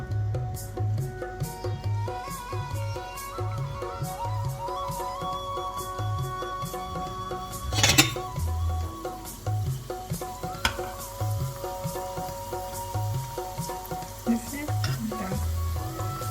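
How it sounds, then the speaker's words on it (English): Seedai dough balls fry in hot oil, with a continuous crackling sizzle and fine bubbling heard up close, broken by a few sharper clinks and scrapes of a utensil stirring the pot. "The oil is heated up. Now I'm going to fry the ball."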